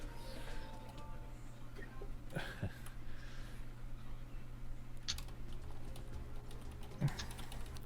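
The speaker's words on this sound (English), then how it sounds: "I'm typing out their names in the chat so you can see how they're spelled and everything." Quiet clicking of fingers typing on a computer keyboard during an online Pathfinder tabletop game session, soft irregular keystrokes over a low steady hum, with no one talking.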